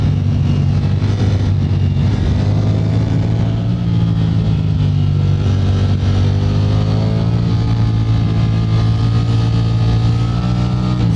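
A Ducati Streetfighter V4S motorcycle is ridden, and its engine drones loud and close throughout with steady, shifting revs and no talk.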